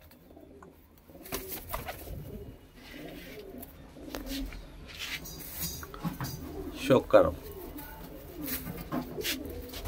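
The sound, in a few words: pigeons cooing, Punjabi breed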